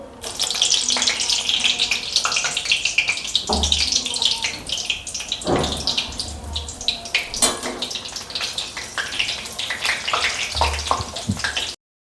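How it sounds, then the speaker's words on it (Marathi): Green chilies frying in hot oil after spinach bhaji, with a loud, dense, continuous sizzle throughout and occasional low thumps from the pan. "आता भजे तळून झालेले आहेत, तर मी मिरच्या तळून घेते"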